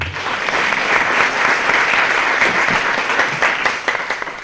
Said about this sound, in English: I'd like for all of you guys to give them a round of applause for the bravery.